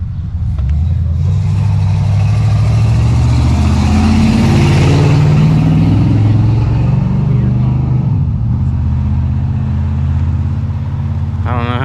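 A cylinder engine running with no muffler, a loud, raw, steady roar with rising and falling pitch for the whole stretch, close by, with talk heard over it.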